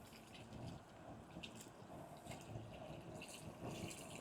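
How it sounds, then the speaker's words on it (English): Bottled water is poured by the gallon into a pot for Louisiana gumbo, a continuous splashing, gurgling stream that stays fairly quiet and close, with no talking. "I'm going to start out with just adding another gallon of water"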